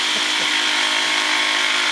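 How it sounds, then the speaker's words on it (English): Logger saw and chain splitter working through wood, a loud, steady broadband motor roar running continuously and close, with no clear breaks. "Chain splitter and logger saw. There we go. That's the noise!"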